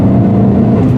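An Abarth 595C Turismo with a Record Modena exhaust drives along, its engine giving a loud, steady low drone heard from close range with no pauses.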